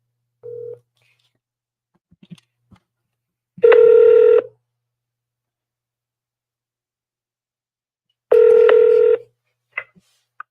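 A phone line gives two long, loud electronic tones with a short beep before them and gaps of silence between them, followed by a few faint clicks.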